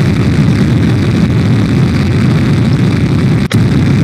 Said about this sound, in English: And blow it up again because I don't care.